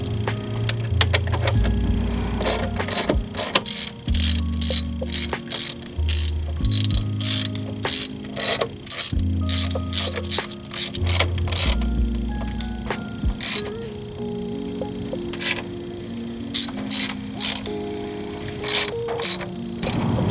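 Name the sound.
ratchet tightening bolts on a valve cover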